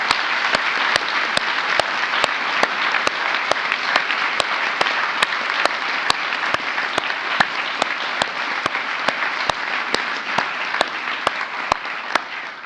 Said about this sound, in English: let us give her a heartfelt round of applause